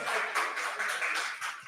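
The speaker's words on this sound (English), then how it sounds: "please give her a round of applause" Audience applause right after a presenter finishes at a collaborative event, a steady wash of many hands clapping for under two seconds with no voices over it.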